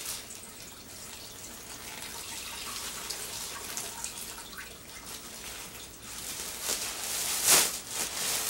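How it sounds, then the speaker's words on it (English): Water is poured onto shredded paper bedding in a plastic worm compost bin, a soft continuous trickle and splash that swells into a louder gush near the end. "A little bit more water there."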